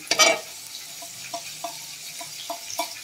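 Whole spices, including dried red chillies and five-spice seeds, dry roasting in a pan for a fish curry spice mix, heard as a burst of rattling followed by soft scraping stirs at a steady rhythm, close and fairly quiet.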